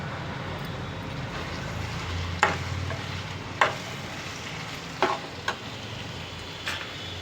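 Cut eggplant pieces tumble into a frying pan for a colocasia and eggplant tamarind curry, then get stirred, giving several sharp scraping clinks of the spoon over a steady low sizzle and hiss.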